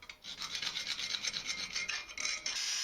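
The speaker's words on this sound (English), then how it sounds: "filed away any burrs and sharp corners that were left over" Close, continuous metal filing as burrs and sharp corners are rasped off a steel table saw riving knife, with rhythmic back-and-forth strokes and no talking.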